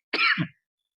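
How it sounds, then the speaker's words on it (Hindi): One short, rough cough right at the microphone, loud and isolated, followed by silence. "खांसी हो गई"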